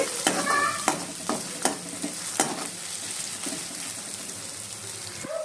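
Ginger garlic paste frying in a pan, a steady soft sizzle with several sharp clinks and scrapes of a spoon stirring, fairly quiet and close.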